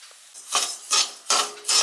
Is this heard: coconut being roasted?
yes